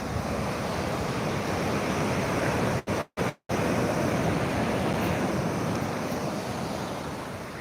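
Sea waves breaking steadily on a sandy beach with a sandbar and heaps of washed-up shells, a loud continuous surf roar with wind buffeting the microphone and two brief dropouts midway.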